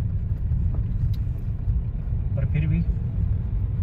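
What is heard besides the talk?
road traffic stuck in a jam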